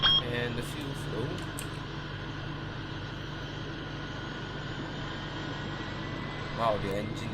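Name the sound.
Boeing 777 engine starting in X-Plane 11 video game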